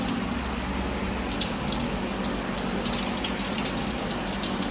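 Steady running water pours continuously from a pool-side shower or tap as chlorine is rinsed off dreadlocked hair, a close, dense hiss and splash without pause.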